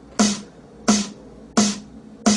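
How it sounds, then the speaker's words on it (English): Layered snare samples, a drum machine snare stacked with a funky break snare, strike four times at an even pace, each crisp close hit showing a bright snap over a low body. "So those two snares together sound like this."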